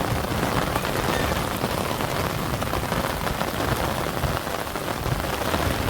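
Heavy monsoon rain of the first Sawan downpour falls without letup, a thick close-up patter and hiss of drops striking surfaces that holds even throughout, with nobody speaking.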